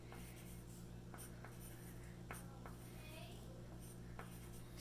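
A pencil writing numbers on paper during a division lesson, with faint scratchy strokes in short bursts over a low steady hum.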